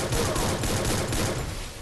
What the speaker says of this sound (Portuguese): Eles estão se atirando.